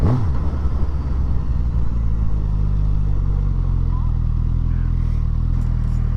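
A 2026 Suzuki GSX-S 1000 four-cylinder motorcycle rumbles loud and close under light throttle, its engine note dropping and then holding a steady low drone as it rides.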